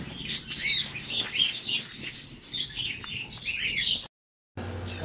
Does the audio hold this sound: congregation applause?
no